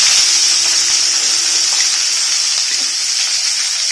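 Chopped shallots sizzle loudly and steadily in a hot pan for coriander chutney, a close, continuous hiss of frying.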